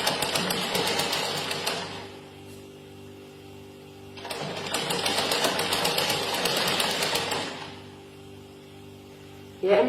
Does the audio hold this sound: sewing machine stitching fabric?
yes